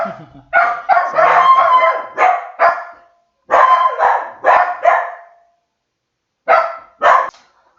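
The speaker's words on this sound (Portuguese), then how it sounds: "os meus cachorros vão latir uma hora que chegar alguém aqui em casa" Dogs bark loudly and close by in repeated bursts, with short pauses between volleys and a couple of sharp barks near the end.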